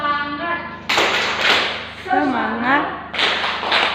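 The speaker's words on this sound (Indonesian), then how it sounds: "Jadi ice breakingnya dengan menggunakan tepuk semangat" A group of participants at a school ice-breaking session does a rhythmic spirit clap, short sharp bursts of clapping separated by a leader's voice calling out between them.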